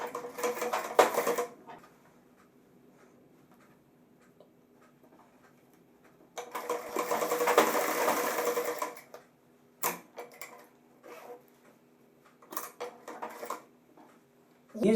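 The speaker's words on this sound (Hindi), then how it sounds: "यहाँ से हमने किनारे की सिलाई लगानी है।" A sewing machine stitches a zipper onto pant-cut pajamas in bursts of rapid, close mechanical clatter: a short run at the start, one long sustained run in the middle, then brief stop-start bursts separated by quiet pauses.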